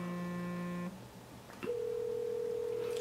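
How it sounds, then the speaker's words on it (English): An incoming-call ringtone sounds on a Galaxy S phone running the Simply Honey 3.0 RC2 custom ROM: a steady electronic tone plays clearly, stops briefly, then starts again as a single sustained tone that continues to the end. "Let's get a phone call coming in so we can see"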